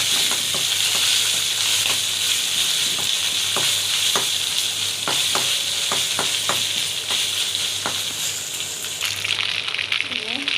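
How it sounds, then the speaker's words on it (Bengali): Spice paste for beef biryani fries in hot oil, a loud, constant close sizzle broken by regular stirring scrapes and taps, with someone talking in the background. "মশলাটা একটু তেলের মধ্যে ভাজবো যাতে কাঁচা গন্ধটা চলে যায়"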